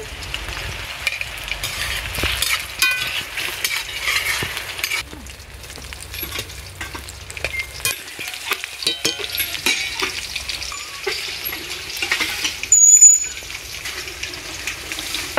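Chicken pakora pieces fry over a slow flame in hot oil at a village home, giving a continuous crackling sizzle. Scrapes and light metallic clinks come from slow stirring, with one sharper clink near the end.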